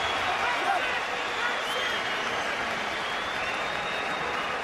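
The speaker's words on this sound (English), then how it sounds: "The Nottingham crowd roar on the hero" A Nottingham boxing crowd roaring at a title fight, a dense, steady wall of cheering and applause that holds at the same level throughout, with commentary over it.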